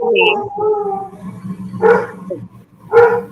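Several dogs bark in short bursts, with two loud barks standing out near the end, mixed with a person's voice imitating or competing with them during a Trinidad and Tobago news and current-affairs talk show.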